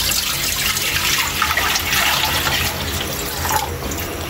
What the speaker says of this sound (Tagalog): Yan na Kaili, hugasan ko muna para mag-slice na rin si Boy Mukbang.